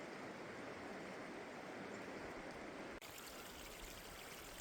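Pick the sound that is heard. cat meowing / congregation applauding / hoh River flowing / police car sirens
hoh River flowing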